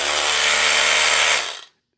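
A Milwaukee 12 volt SDS drill whirs steadily at close range with a high, buzzy motor tone for about a second and a half, then winds down quickly to silence.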